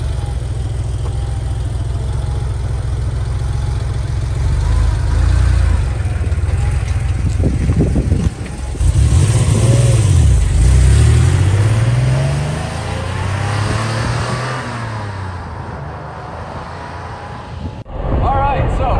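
A 1988 Porsche Carrera 3.2 cabriolet's engine runs from inside the car, idling then revving and pulling through rising and falling gears, loud and close, with a sharp cut near the end and people talking over parts of it.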